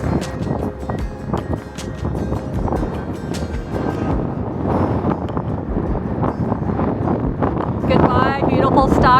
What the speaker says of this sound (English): It is so windy up here and kind of cold